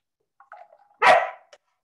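A dog gives a couple of soft whines, then one sharp loud bark followed by a brief yip, close by in a quiet kitchen setting, with no talking.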